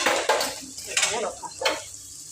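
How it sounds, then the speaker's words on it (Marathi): Mutton with Malvani masala fries in a tall pressure-cooker pot, giving a soft sizzle under a few bursts of stirring and metal scraping, close and moderately loud. "आता आपलं मटणही चांगलं फ्राय झालंय"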